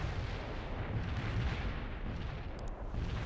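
Tank cannon fire in the video game World in Conflict, a dense, continuous wall of heavy booming and rumbling battle noise that stays loud throughout without any speech.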